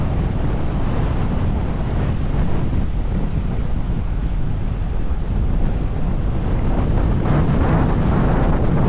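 Strong wind blows at a desert rest area on a road trip toward Las Vegas, a loud, continuous roar and buffeting across the microphone with no break.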